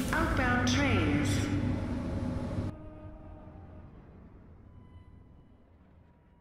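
A train in the video game The Surge pulls through an industrial station bound for Central Production B, loud and rumbling with a horn-like tone and squeals early on, then cutting off abruptly into a fainter residual hum, with an announcer's voice over it.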